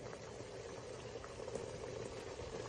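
Papdi flour dough steams in a covered pot on the stove, giving a low, even bubbling hiss that stays faint and unbroken for a few seconds.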